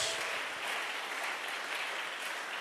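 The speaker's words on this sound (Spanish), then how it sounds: "Ahora un aplauso para el Señor" A church congregation applauds for the Lord, a dense, even wash of clapping that fills the room continuously from start to finish, without speech on top.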